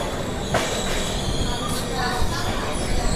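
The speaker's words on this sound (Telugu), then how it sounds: "Janshatabdi express train" Jan Shatabdi Express, Vijayawada to Chennai Central, running through Nellore station platform 2: loud, continuous rail rumble with wheel squeal and rattling coaches, faint platform voices underneath.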